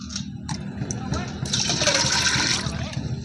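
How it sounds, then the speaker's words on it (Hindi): Water is poured steadily into a bowl of chana dal in a kitchen, a splashing, filling rush that swells over a couple of seconds, close to the microphone, with a voice talking around it. "अब मैं इसमें कुछ पानी और ऐड करूंगा"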